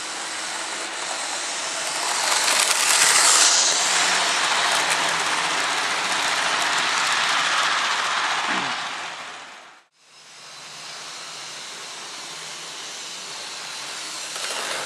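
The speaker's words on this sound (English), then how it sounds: "Not even running this loco flat out yet." A model locomotive runs along the track of a layout, giving a loud, steady rushing rumble that holds for several seconds, dips sharply to near silence for a moment, then resumes at a lower, even level.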